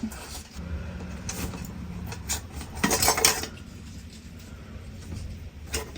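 Metal camping cookware being handled, a spork clinking against a pot in a stove kit, light rattles and a louder clatter midway, close and fairly faint.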